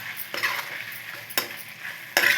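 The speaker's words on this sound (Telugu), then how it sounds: "కొబ్బరి వెల్లుల్లిపాయ పేస్ట్ వేసేద్దాం వేసేసి కొంచెం కలుపుకుందాం" Coconut garlic paste being stirred into a bottle gourd masala curry in a pan, a low sizzle broken by three distinct scraping strokes of a spoon, close and fairly loud.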